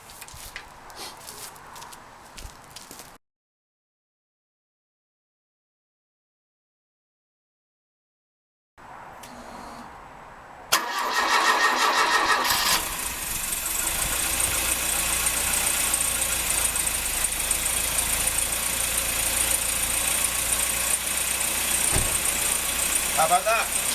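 A freshly rebuilt Citroen DS23 engine cranks, catches and settles into a loud, steady idle close by. Quiet handling noises and a pause of silence come before the start, and a voice is heard briefly.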